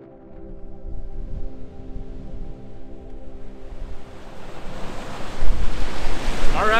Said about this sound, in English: welcome to the most northerly beach in the UK